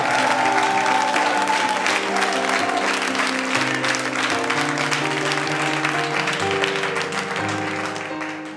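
An audience applauding loudly and continuously, with a dense wash of clapping and crowd noise over sustained musical tones that fades slightly at the end.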